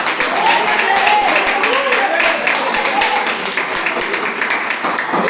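A church congregation claps together during a sermon on the temptation of Jesus, brisk repeated hand claps with crowd noise and voices mixed in, fairly loud and close.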